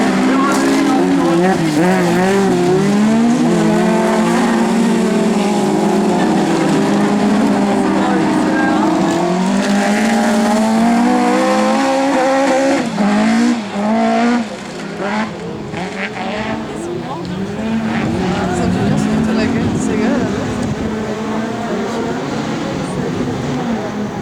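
Division 2, 2-litre autocross race cars competing at St Junien in 2011, engines roaring continuously and loudly as the pack races by, with a commentator talking over the noise throughout.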